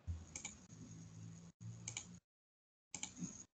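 Computer keyboard keys tapped in a few short separated bursts, quiet and close, with silent gaps between the clicks.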